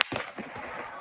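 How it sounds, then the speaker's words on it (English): A shooter fires at an outdoor event, giving one sharp, loud crack that rings out into a reverberating tail. "the shooter let off shots"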